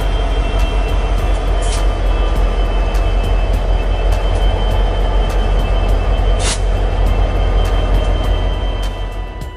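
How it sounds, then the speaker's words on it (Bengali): A train pulls into a railway platform with a loud, continuous rumbling roar and a couple of brief sharp hisses, fading slightly at the end. "ইতিমধ্যে আমাদের ট্রেন কিন্তু প্ল্যাটফর্মে চলে এসেছে"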